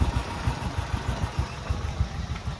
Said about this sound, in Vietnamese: máy đang nổ đó